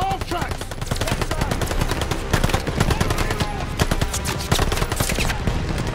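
Dense, loud gunfire fills a Call of Duty Vanguard battle, rapid machine-gun bursts and overlapping rifle shots rattling on without pause while shouted voices call out beneath the din.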